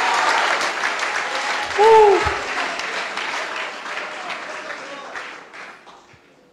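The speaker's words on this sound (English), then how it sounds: "Come on, clap your hands." A church congregation applauds steadily through a sermon, with a loud, sustained wash of clapping that fades toward the end and a single brief cheer partway through.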